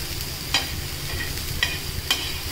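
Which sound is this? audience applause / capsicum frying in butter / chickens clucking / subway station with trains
capsicum frying in butter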